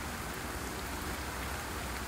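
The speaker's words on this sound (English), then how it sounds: "the spots of rain that keep pattering on my coat and hood" Spots of rain patter steadily on a coat and hood during a woodland walk in the Aire Valley near the Leeds-Liverpool Canal, a dense, close, even hiss with no voices.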